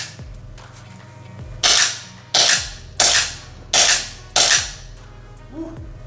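A UDL M17 electric gel blaster fires five sharp cracking shots, evenly spaced about two-thirds of a second apart, each with a short mechanical snap, over a faint low hum.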